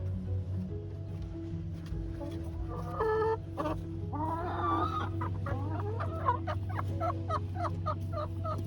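Chickens in a backyard flock cluck and call repeatedly, close and fairly loud, with rising squawks and a rapid series of short clucks over a steady low background hum.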